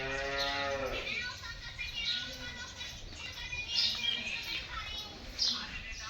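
A dairy cow on a farm in Bhalasara village, Tharad, Banaskantha, gives one drawn-out moo at the start, followed by quieter farmyard sounds with birds chirping in the background.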